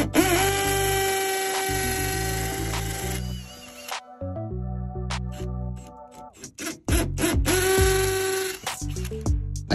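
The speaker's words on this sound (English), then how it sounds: "And now I'm gonna drill them out." A power drill whines at high speed in long bursts, pausing and revving again, with rattling and grinding as the bit bores anchor holes into hard material for mounting a doorbell bracket.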